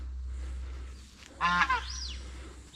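A single goose honk sounds nearby on a hobby farm in autumn over a low steady hum, a brief nasal call followed by a softer trailing note.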